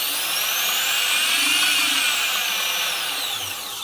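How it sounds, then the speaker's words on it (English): A variable speed knife-making grinder runs steadily at close range, a continuous high whine with sweeping pitch tones that stays loud throughout and eases slightly near the end. "So here's my main grinder, and it's variable speed"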